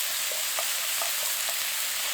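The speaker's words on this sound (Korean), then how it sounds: "고기 뭉치지 않게 볶아주세요. 소금 살짝 넣고 볶아줍니다." Ground meat stir-fried with a pinch of salt, sizzling steadily and loudly throughout while a spatula scrapes the pan in regular, repeated strokes.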